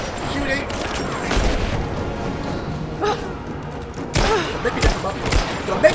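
Gunfire in the video game Rise of the Tomb Raider: several loud, sharp shots and thuds arrive in irregular bursts over a dense game soundscape, with speech mixed in.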